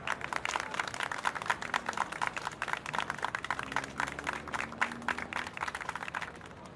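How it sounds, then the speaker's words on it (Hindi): A crowd applauds to welcome Mrs. Meherban onto the stage, a steady, dense patter of many hands clapping without a break, with a faint voice low underneath. "तालियां हो जाएं"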